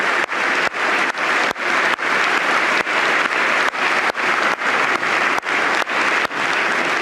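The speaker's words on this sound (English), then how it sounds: "That loud clapping is Trump into his mic." Loud crowd applause with sharp, close clapping from Donald Trump cutting in repeatedly right at his microphone, producing abrupt regular breaks in the sound.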